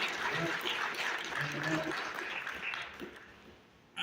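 An audience applauds at a moderate distance during a lecture, the clapping holding steady, then thinning and fading near the end.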